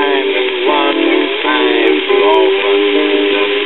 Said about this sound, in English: Now, I'll demonstrate what a 78 sounds like when played back with the supplied LP